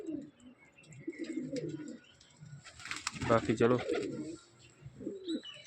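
Pigeons kept by a fancier coo softly in a loft, low repeated calls with a few chirps and wing rustles, while someone speaks briefly close by.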